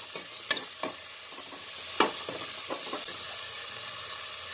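Ginger garlic paste and potatoes fry in a pan with a steady low sizzle, broken by a few sharp clinks and scrapes of stirring.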